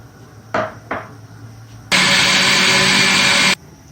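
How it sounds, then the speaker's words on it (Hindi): An electric juicer-grinder whirs loudly for about a second and a half, blending yogurt, milk and sugar into lassi, after two short clatters of ingredients going into the jar. "अब मैं जूसर में डाल लेती हूँ और इसको फिर ग्राइंड करते हैं।"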